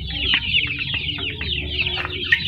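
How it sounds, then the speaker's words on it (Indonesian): Free-range village chickens (joper crossbreeds) feeding on fermented feed, giving a steady run of close, soft clucks and short pecking calls with repeated high chirps, no talk. "Ayamnya lahap-lahap makan."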